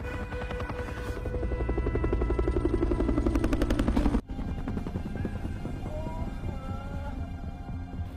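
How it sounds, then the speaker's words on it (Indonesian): A helicopter's rotor thumps steadily and loudly, then the sound cuts abruptly and continues as a more distant, fading drone, with no voices heard, in a scene from a TV drama. "helikopter telah berbalik arah dan tidak melihat mereka lagi"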